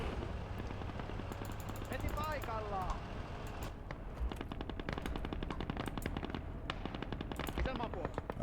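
Rapid machine gun fire rattles in long bursts during a battle in a World War II strategy video game, with sporadic heavier gunshot cracks over continuous background battle noise.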